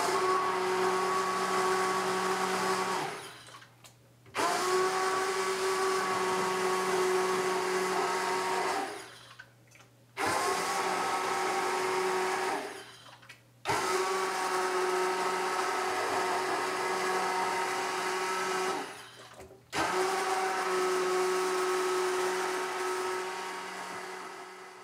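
A stick blender purees cauliflower curry soup directly in the pan, whirring loudly and steadily in four long runs separated by brief pauses, with no voices.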